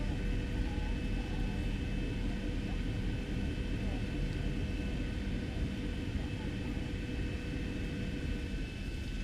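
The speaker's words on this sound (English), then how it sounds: "that flap sound is, I'm just going to go ahead and say it, that is the most realistic flap sound in X-Plane 11, period" Flap extension on a Zibo Boeing 737NG in the X-Plane 11 flight simulator, a steady broadband cabin rumble with a faint whining mechanical hum running under it, constant and unbroken throughout.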